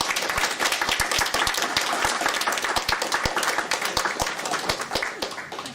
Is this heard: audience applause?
yes